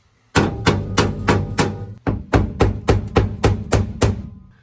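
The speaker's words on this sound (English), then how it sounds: "now we're going to do it with just like a ball peen. This will like replicate a like a rock bouncing up" A ball peen hammer strikes the underbody of a 1969 Chevy Corvair treated with sound deadening, about a dozen hard, close metallic thuds in a steady rhythm with a short pause after the first four.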